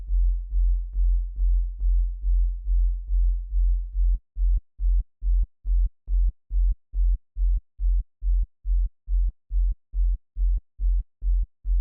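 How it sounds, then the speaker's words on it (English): A very low sine wave layered beneath a programmed kick drum: a steady deep hum for the first four seconds, then a rapid series of short, punchy low thumps repeating evenly, loud and close, with no voices. "layer a very low sine wave underneath"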